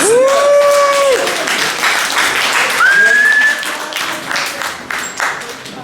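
Applause in a church service, scattered clapping under sustained tones like whistles or a held note, fading gradually toward the end.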